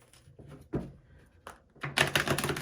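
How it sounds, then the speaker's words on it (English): Soft riffling and flicking of tarot cards in short bursts, ending in a louder rapid shuffle, close by and with no talking. "I'm going to shuffle so that you all can see here."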